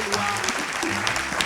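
A conference audience applauding at the close of a talk on history and comics: dense, close clapping from a crowd that fills the short moment, with a voice speaking over it.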